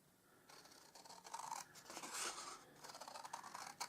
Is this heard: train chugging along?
no